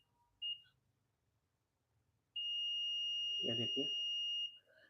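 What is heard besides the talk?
multimeter continuity buzzer beeping while testing fridge compressor OLP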